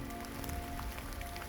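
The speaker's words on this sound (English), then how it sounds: "This rain was to be expected." Rain falling along the Salkantay trail in the Peruvian jungle near Lucmabamba, a steady, even hiss of drops with no break and no voices.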